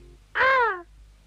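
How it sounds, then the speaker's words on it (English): A crow gives one loud, close, harsh caw lasting about half a second in a 1972 children's television episode, with quiet surroundings before and after. "It's Scaredy the Crow."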